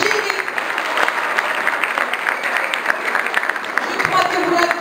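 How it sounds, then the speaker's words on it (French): Audience applause at a school group's International Women's Day celebration, steady dense clapping from a crowd throughout with some voices mixed in. "Applaudissez-la très très fort."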